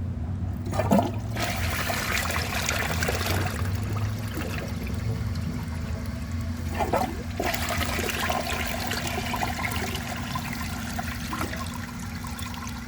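A Vortens Vienna toilet from 2001 flushing a dish towel, with a sustained rushing flush of water swirling steadily for the whole stretch, close and fairly loud, with no talking.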